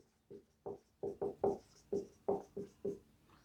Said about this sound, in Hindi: तो चलो क्वेश्चन लिखते हैं